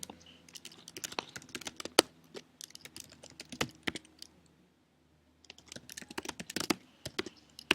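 Fingers tap out login details on a computer keyboard in quick irregular bursts of crisp clicks, a short pause midway, then another run of keystrokes, close and clear in a quiet room.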